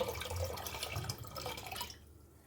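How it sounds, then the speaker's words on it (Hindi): Water is poured into a clay pot, a continuous close splashing and gurgling that runs for about two seconds before stopping. "तो सबसे पहले हम इसमें डाल देंगे पानी।"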